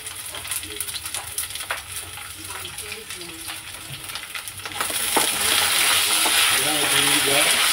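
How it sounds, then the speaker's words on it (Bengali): Whole okra fries in oil with a sprinkle of salt, a close, continuous sizzle with stirring clicks that swells into a louder, hissing rush partway through; no talking. "চলুন ঢ্যাঁড়সটা ভেজে নিই, একটু নুন ছিটিয়ে দেবো"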